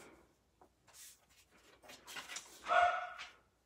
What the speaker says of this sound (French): Désolée pour mon chien qui jappe.